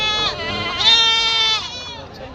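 A goat bleats loudly and close at a weekly goat and sheep market, one long wavering cry, with other animals and people faintly in the background.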